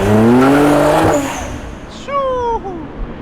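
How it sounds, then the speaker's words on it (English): A loud, modified BMW M3 with a turbocharged engine at a private car meet, revving hard in a rising, sweeping tone that drops off after about a second, followed by a second, fainter rising whine and flutter. "That turbo noise sounded crazy, bro."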